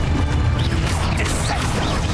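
An Expulso blast spell in Hogwarts Legacy erupts in a dense, continuous crash of smashing debris and rumbling noise that fills the whole moment with steady loudness and no clear talk.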